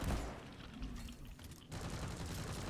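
Automated turrets in the video game Deep Rock Galactic fire a dense, continuous stream of rapid gunfire. The barrage is loud and close, with a brief thinning in the middle before it resumes at full strength.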